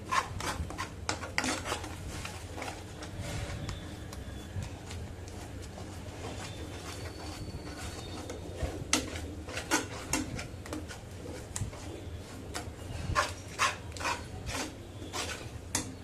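Steady rasping scrape of a spatula stirring a mango mixture with nuts in a hot pan, a continuous close scratching with faint clinks, going on without pause, almost no talking.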